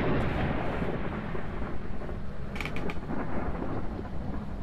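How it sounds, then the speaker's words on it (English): A creaking door swings open in the horror game Phasmophobia, a drawn-out groaning creak with a brief mechanical rattle midway, heard alone against a low rumbling background. "Dan Marsh, did you just open a door?"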